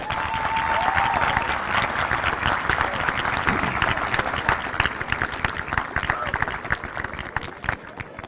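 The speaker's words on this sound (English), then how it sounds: "I want you to take a moment and applaud your parents" A high school graduation crowd applauds the parents, with continuous loud clapping filling the room and a few voices and cheers mixed into the steady roar.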